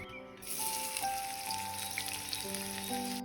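Steady, dense sizzling of onions frying in hot white oil, continuous and close throughout, with faint tonal sounds in the background.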